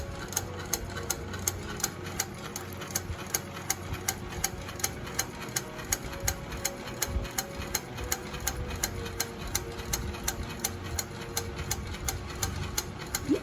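A Fusion high post sewing machine fitted with a wig attachment runs steadily, its needle producing a fast, regular ticking rhythm over a motor hum, close and consistent throughout.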